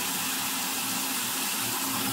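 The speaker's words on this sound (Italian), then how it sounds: "Adesso per fare la prova faccio andare l'acqua al massimo e vediamo se adesso va via bene" Tap water runs at full flow into a shower drain after the trap has been cleaned, a steady, loud, close rushing gush with no pauses.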